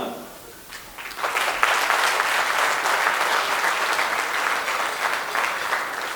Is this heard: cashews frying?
no